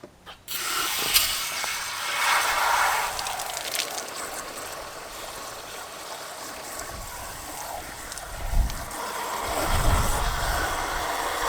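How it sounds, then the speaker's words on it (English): Steady rushing water runs from a hose into a backpack sprayer tank almost the whole time, a continuous hiss with a brief surge near the end. "We'll grab the hose, we'll get a gallon of water in this thing"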